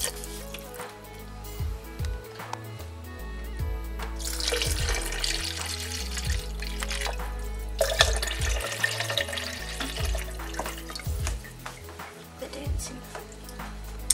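Filtered water is poured, roughly three cups, into a blender or container for homemade almond milk. A steady splashing rush runs at moderate level, rising and falling in bursts, with quiet handling noises in between.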